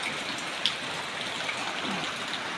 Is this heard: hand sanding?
no